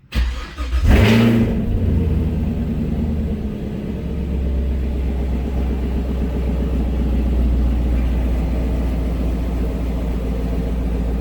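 A 2024 Chevrolet Camaro LT1 V8 with secondary resonators deleted idles with a deep, steady rumble after a brief rev near the start, the throaty burble continuing loud and close throughout in a garage near a wall.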